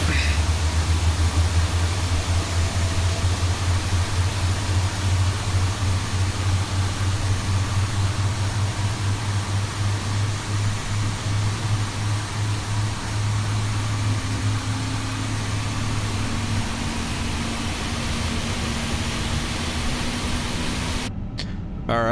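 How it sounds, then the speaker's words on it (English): Airbus A350 number 2 engine spooling up in a flight simulator, a steady low hum and broadband roar holding for about twenty seconds, with a rising tone joining partway through, ending in a brief click. "that sounds like a good engine number 2 start to me"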